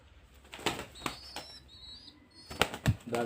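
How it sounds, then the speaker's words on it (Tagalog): New pigeons flap their wings in several quick fluttering bursts, close by, with faint chirps and soft outdoor noise between them. "Mga bago kong kalapati guys."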